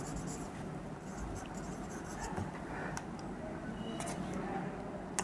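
Pen or marker writing by hand on a board during a classroom lesson, a steady scratchy stroke texture continuing for several seconds under room tone with occasional light ticks, no clear talk.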